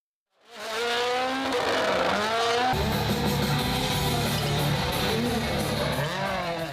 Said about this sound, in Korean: 힘찬 엔진 소리와 함께 출발한 토요타 자동차